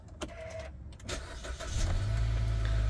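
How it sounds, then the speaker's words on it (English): A 2017 Kia Venga 1.6 automatic hatchback starts up: faint clicks and a brief crank, then the engine catches and settles into a steady, low idle, heard from inside the car. "Let's start the car up."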